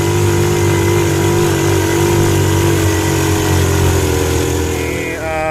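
A motorcycle engine drones loud and close as it labours up a steep hill through the Pulau Tioman forest reserve, its pitch holding steady under strain for the whole stretch and easing slightly at the end.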